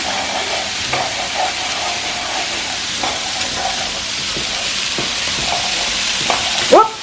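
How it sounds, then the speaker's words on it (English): Celery and Granny Smith apple sauté in a pan with a steady, moderate sizzle, broken by occasional utensil scrapes and stirs. A brief squeaky sound comes near the end. "we are going to saute all of this together until it becomes nice and soft and some of the pieces start to get a little translucent"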